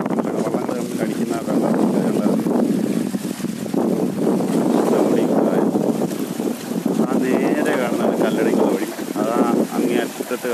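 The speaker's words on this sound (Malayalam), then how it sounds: "നല്ല ഓളമാണ്, കാറ്റടിച്ചിട്ട് കാറ്റ് പിടിക്കുന്നു" Wind and lake water heard from a boat out on Ashtamudi lake, a steady loud broadband rush and buffeting wind on the microphone, continuous throughout and mixed with voices talking.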